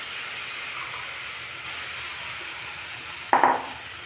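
Palm fruit syrup heats in a kadai on a gas stove, giving a steady soft hiss, then a brief sharp sizzle burst near the end.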